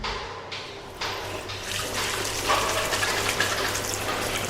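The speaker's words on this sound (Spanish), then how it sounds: "sus manos apretaban la incoercible y fresca columna de agua del surtidor" Water gushing steadily from a fountain spout, a dense, continuous splashing rush that grows slightly louder toward the end and plays alone without voices.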